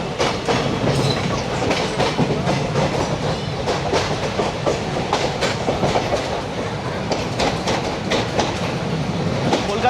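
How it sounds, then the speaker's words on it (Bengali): A passenger train just out of Kolkata station, bound toward Guwahati, rolls steadily along the rails with a loud, continuous rumble and rhythmic clickety-clack of wheels. "কলকাতা স্টেশন তো ছেড়ে দিয়েছে আমাদের ট্রেন"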